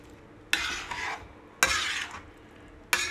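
Cooked vegetables for pav bhaji mashed in a pan: three separate rasping, scraping strokes, close and fairly loud, with short pauses between them and no talking.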